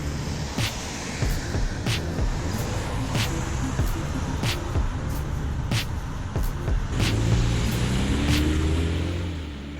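A Jeep Renegade fitted with solid mud flaps moves along a wet road, tires hissing through water with a low engine rumble and repeated sharp ticks passing by.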